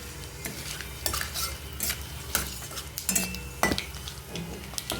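Whole garam masala spices with bay leaves and cracked black cardamom fry in hot oil, a steady close sizzle punctuated by repeated spoon scrapes and clinks against the pan.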